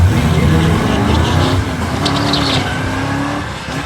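A 1955 drag race car makes a loud, close pass down the quarter-mile track, its engine roaring steadily with rising revs before gradually fading.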